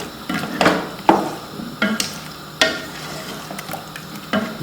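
Chicken and masala fry in a pot for Bombay biryani, a steady close sizzle broken by several sharp scrapes and clanks of stirring against the metal.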